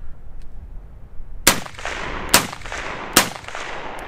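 Three sharp rifle shots from a Riflespeed Dissipator fitted with an aluminum bolt carrier, loud, close and evenly spaced about a second apart, each with a short ringing tail outdoors.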